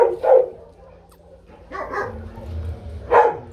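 Dogs at an animal shelter bark in three separate bursts, a few sharp woofs each, at moderate distance with low kennel rumble between.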